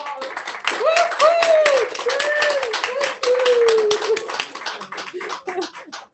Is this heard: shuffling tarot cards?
no